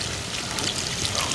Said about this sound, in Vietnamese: Cuối cùng là mình cho hết cái phần nước cốt nhất này vô ha cả nhà